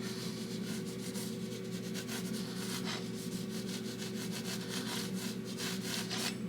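A brush rubbing oil paint across canvas in Bob Ross-style painting, with steady rapid scrubbing strokes in a continuous rhythm, close and moderately loud, no talking.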